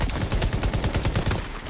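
Rapid automatic shotgun fire in a first-person shooter game, a dense string of loud, evenly spaced blasts that continues without pause for under two seconds, close and alone with no talk.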